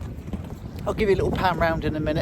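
Wind buffets the microphone on a small inflatable boat drifting with its engine off in a container port near Southampton, a steady low rumble running under someone talking.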